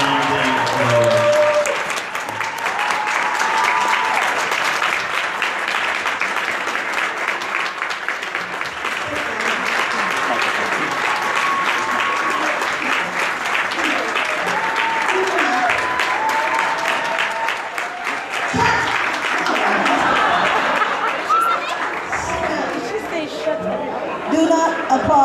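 Sustained, loud audience applause with cheering and crowd chatter welcomes Jane Elliott onto the stage at a Wyandanch presentation, holding steady throughout.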